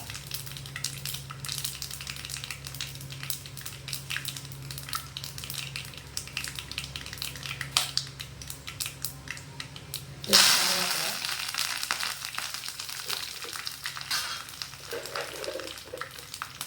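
Mustard seeds and dried red chillies fry in hot oil, a continuous crackling sizzle with a sudden louder burst of spattering partway through, close and busy throughout.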